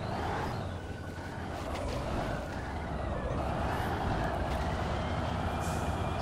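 Ural truck in the SpinTires off-road game, its engine droning loud and steady under load with a low rumble throughout.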